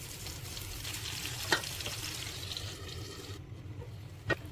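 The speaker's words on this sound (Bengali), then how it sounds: "এভাবে আমি বেগুনগুলো ভেজে নেব।" Eggplant slices fry in oil in a pan, a steady close crackling sizzle with a couple of sharp pops, alone without talk.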